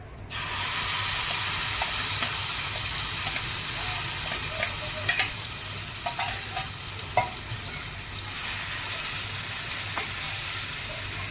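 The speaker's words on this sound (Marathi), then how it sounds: "आणि व्यवस्थित तुपावर परतून घ्यायचे, थोडंसं याचं पाणी सुटेल आणि आटेल तोपर्यंत" Grated raw mango sizzles steadily in hot ghee in a pan, a continuous close frying hiss with occasional scraping stirs and small pops, no voices.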